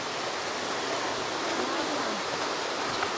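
Spring water fed from the mountains rushes steadily at a Sri Lankan family home, a dense continuous splashing wash filling the whole moment at close range with no break.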